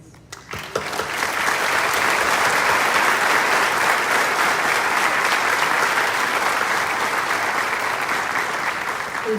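A graduation ceremony audience for the class of 2021 breaks into loud, sustained applause after a brief quiet opening, many hands clapping steadily and evenly to the end.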